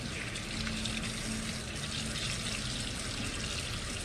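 Cold tap water gushes steadily into a bowl of cooked potatoes, a constant close splashing hiss and fill with a faint hum underneath, no talking.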